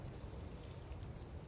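Rain falls steadily outdoors as a soft, even patter with a low rumble beneath, faint and continuous with no voices.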